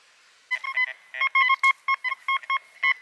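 A metal detector sweeping a beach gives a quick series of short, sharp electronic beeps in uneven bursts, loud and close with no talk over them.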